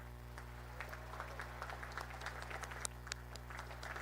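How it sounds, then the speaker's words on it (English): Applause from an audience at a military commissioning ceremony, a steady wash of distant clapping over a low constant hum, with a few sharper claps standing out. "please join me in giving them a heartfelt round of applause"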